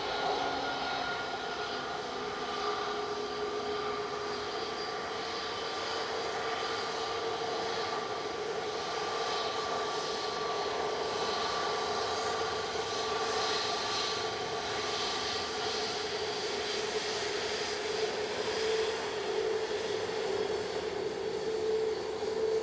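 Steady jet airliner engine hum from an aircraft lined up for departure to Corfu as flight 2061 at Manchester Airport, a continuous moderate drone with a faint high whine, no talk.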